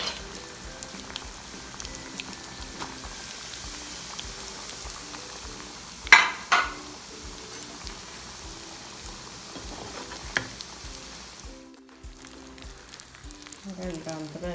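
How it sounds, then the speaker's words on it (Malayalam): Prawn fritters deep frying in hot oil, a steady soft sizzle and bubbling that runs throughout with a couple of brief clattering stirs, then dropping away near the end while a voice talks over it. "രണ്ടാമത്തെ ബാച്ചും കൂടി നമ്മൾ വറുത്ത് കോരിയിട്ടുണ്ട്"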